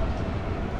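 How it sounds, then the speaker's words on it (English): Train rolling past during a walk through small shops in Athens, a faint, broad rumbling wash of rail noise lasting under a second, alone with no voices. "Another train."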